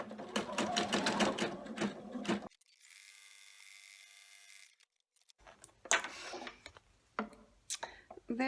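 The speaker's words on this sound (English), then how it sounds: "we'll take that back to the machine and tack that down" An embroidery machine stitching a tack-down on the front fabric piece of an in-the-hoop heart coaster in a 4x4 hoop runs as a steady whirring buzz for about two seconds, with talking before and after it.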